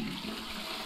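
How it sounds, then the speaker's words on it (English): A toilet flushes in a horror video game about pooping, a continuous close rushing of water lasting under a second. "Oh, I'm flushing."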